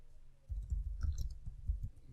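Someone types on a keyboard, a short run of soft, muffled keystroke clicks heard up close after a brief quiet start.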